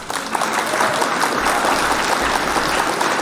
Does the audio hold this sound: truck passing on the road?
no